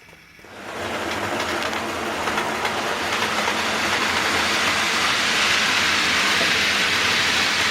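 A model railway locomotive on a hillside layout track runs with a dense, steady mechanical whir and rattle that builds quickly and holds loud and close throughout, consistent with its wheels spinning.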